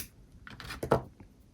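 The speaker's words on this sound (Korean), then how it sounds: "가위로 실을 잘라주시고요." Scissors snip through crochet yarn in a quiet indoor setting: a couple of short, close metallic clicks and rustles, faint overall with no talking.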